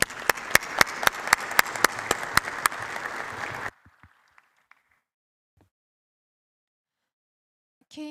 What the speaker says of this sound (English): I would like to ask you to join me in thanking our esteemed panelists with a round